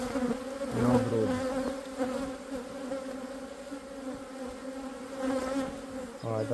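Honey bees at an opened spring hive low on honey, a steady layered buzz with a few individual bees droning louder as they pass close, continuous throughout.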